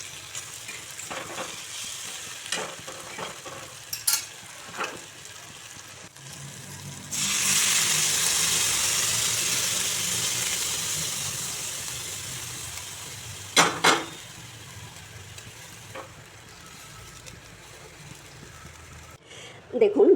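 Potatoes and peas fry in a spice masala for ghugni over a raised gas flame, a broad sizzle bursting up partway through among scattered stirring clicks and utensil knocks, with a voice talking over the cooking.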